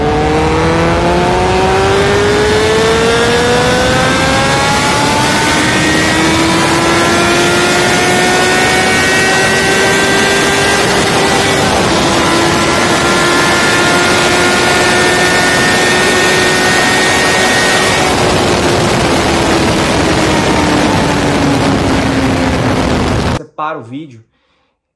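A Kawasaki Z750 motorcycle accelerates hard in first gear, its engine note climbing steadily in pitch as it revs out, loud and close for over twenty seconds before cutting off abruptly.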